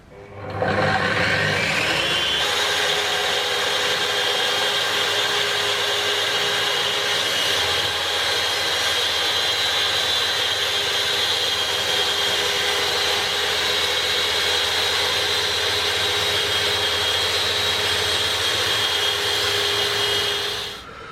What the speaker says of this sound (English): we're going to plunge the saw and it's going to cut through the splinter guard